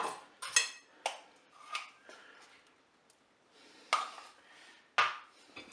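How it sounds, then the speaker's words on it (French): A spoon stirring food in a Cookeo pot while making spaghetti bourguignonne, a series of close, sharp metallic scrapes and clinks in uneven bursts with quiet gaps, no talking. "Je mélange à nouveau."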